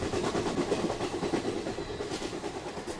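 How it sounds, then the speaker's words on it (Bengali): A train running steadily on its way toward New Jalpaiguri railway station, with a continuous rumbling roar and rhythmic rail clatter that stays loud and even throughout, with no voices. "এখন আমি স্পষ্ট শুনতে পাচ্ছি ট্রেনের শব্দ।"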